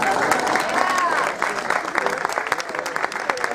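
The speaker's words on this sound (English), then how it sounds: "You can clap." An audience at an awards event applauds for a soccer player's game-winning free kick, a dense burst of clapping that thins and trails off, with a voice speaking over it.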